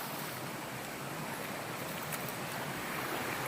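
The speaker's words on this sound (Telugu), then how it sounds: "ఇట్లా వాటర్ ఫాల్ లాగా ఫ్లో అవుతుంది." Water pours down from the hills behind a forest office beside a Mizoram road, spilling like a waterfall. It makes a continuous, even rushing hiss, fairly close and unbroken.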